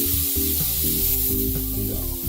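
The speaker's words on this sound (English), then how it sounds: "I got the meat, got the patty, and the oil in the pan, hot, and I'm putting it right there" A burger patty hits hot oil in a pan and sizzles loudly and continuously from close by, a dense frying hiss with a steady hum underneath.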